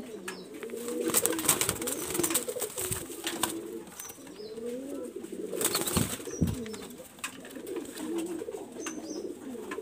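A young pigeon from an imported breeding line coos over and over in soft, throaty rolling phrases, close by, with faint rustling and clicks between the calls.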